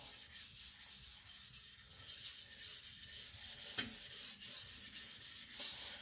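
Sakon Ryuga gyuto knife being sharpened on Naniwa Professional whetstones, a soft continuous rhythmic scraping of steel over wet stone, quiet and close, with faint strokes repeating and no talk.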